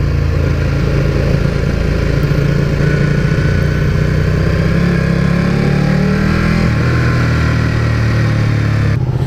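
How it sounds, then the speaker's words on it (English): Steady engine drone from a Ducati Panigale 1299 motorcycle ridden on the road at night, a continuous loud rumble with a slight shift in pitch near the end and no talking. "There's me on my amazing Ducati Panigale"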